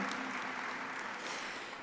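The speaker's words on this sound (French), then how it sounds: "Oui, vous pouvez applaudir" Steady applause from an audience at a Swiss event showcasing web video productions, a dense continuous patter of many hands at moderate distance, fairly soft and unbroken throughout.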